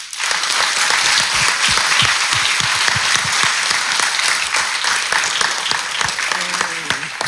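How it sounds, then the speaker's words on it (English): Sustained audience applause at a Recovery Sunday church gathering, a steady dense wash of many hands clapping, loud and close, holding for the full length with scattered sharper individual claps. "Give everybody a round of applause."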